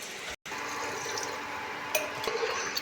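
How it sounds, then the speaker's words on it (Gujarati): Water poured into a pan of stuffed brinjal curry: a continuous splashing pour, broken briefly by a short gap, with a few light clinks toward the end and no talking. "પાણી નાખવાનું ચડવા માટે."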